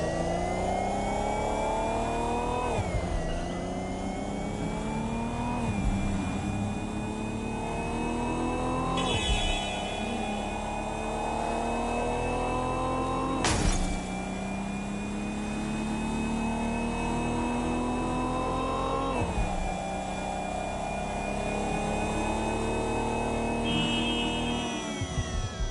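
A car on auto drive in Watch Dogs Legion hums along steadily, its engine pitch climbing through gears and dropping at each shift, sounding close and continuous with no talking.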